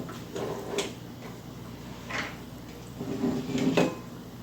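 Soup of creamy wild rice and mushroom ladled into a bowl in a home kitchen, heard as a few light clinks and taps of utensil on dish over a steady low hum, spaced out with a busier cluster near the end.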